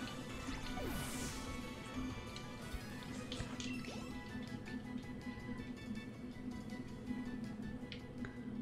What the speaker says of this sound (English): We'll use water gun.